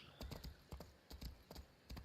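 Horse mount hooves in the Project Gorgon online game, rhythmic clip-clop footfalls in quick pairs at a steady trotting pace, close and clear, with no talk over them.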